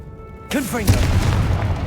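A Confringo fire spell explodes in the Hogwarts Legacy video game. A short spoken voice comes first, then a single loud booming blast with a rumbling tail.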